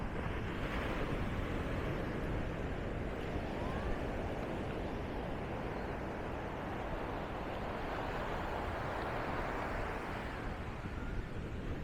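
Ocean surf rolls onto the beach at Nha Trang, Vietnam, a constant broad wash of breaking waves with wind rumble on the microphone and no voices.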